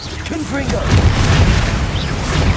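Confringo spell explosion in Hogwarts Legacy, a deep booming blast that swells and rumbles on amid battle effects, with a voice shouting over it.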